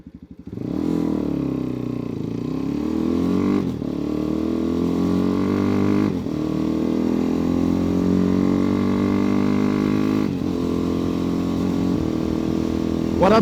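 A Megelli 250r motorcycle fitted with a cone filter revs close up, its single engine rising and falling through several throttle blips over a steady running drone, with no talking.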